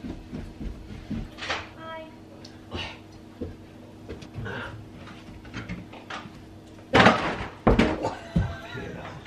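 A house door bangs and thuds several times amid household clatter, with a louder cluster of knocks and slams near the end while people move around nearby.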